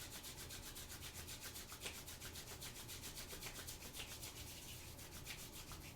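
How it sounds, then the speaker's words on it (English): Two palms rubbed briskly together at prayer position during a full moon yoga flow, a steady fast swishing friction that runs continuously and close, with no voices over it. "start to rub them together quickly"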